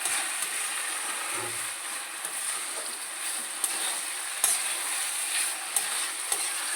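Rice frying for prawn pulao, stirred over and over in the pan, giving a soft, faint sizzle with occasional light scrapes and taps, close by and fairly quiet.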